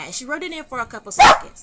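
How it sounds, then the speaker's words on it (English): A pet dog barks indoors at someone coming into the house, one sharp bark breaking through steady nearby talk. "That's my dog. She hears somebody coming in the house."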